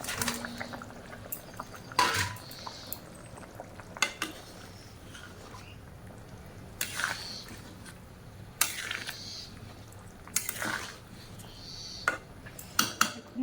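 Fish pieces go into a cooking pot in a home kitchen, with scattered clinks and clatters of utensils against the pot and soft liquid sizzling and stirring underneath, fairly close and moderately quiet.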